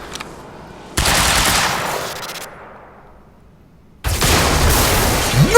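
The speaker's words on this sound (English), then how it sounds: "I want to blow this car up." A loud burst of blast and crackling debris from a car exploding in the video game Quantum Break hits suddenly, tails off into a fading rumble, then a second heavy explosive roar erupts and sustains.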